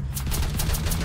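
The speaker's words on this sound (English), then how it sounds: "No, Jeremy, you're shooting me." Rapid video game gunfire, a loud, dense burst of repeated shots with a rattling, automatic-fire rhythm over a low rumble, lasting about a second.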